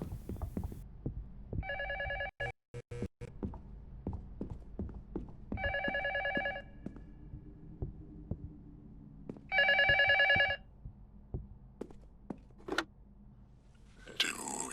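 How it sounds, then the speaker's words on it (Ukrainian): An old telephone bell ringing in the horror game Luto, three separate bursts of bright metallic trilling spaced several seconds apart, among footsteps, clicks and creaks. "Так, телефон у нас внизу"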